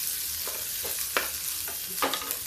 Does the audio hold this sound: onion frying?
yes